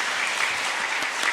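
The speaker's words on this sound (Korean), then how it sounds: "이제 박수가 나오는군요." A congregation applauds during a Sunday worship service at Sinkwang Church, a brief, even burst of dense clapping with no voices over it.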